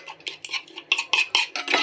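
Whisking or beating food in a bowl with cutlery, quick clinking taps of metal against the bowl in an uneven rhythm, close and clear with no talk.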